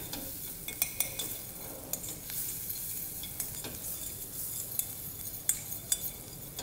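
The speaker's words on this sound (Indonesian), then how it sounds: "kalau punya balon whisk ngaduknya kan pakai balon whisk gini" A balloon whisk stirs béchamel sauce in a pan over the heat, giving a steady close swishing and scraping with faint sizzling beneath and sharp metallic clinks against the pan, without any talk.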